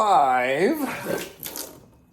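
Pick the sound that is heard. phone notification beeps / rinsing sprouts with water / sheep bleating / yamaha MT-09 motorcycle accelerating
rinsing sprouts with water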